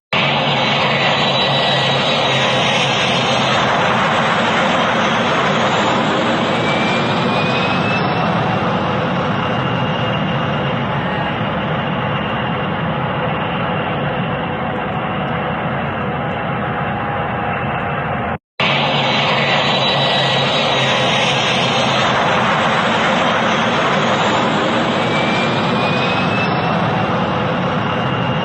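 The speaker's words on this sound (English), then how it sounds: "so that was the plane scooping up the water" A firefighting plane scooping up water makes a loud, steady engine roar mixed with a broad rushing wash that fills the whole stretch, continuous apart from one brief cut.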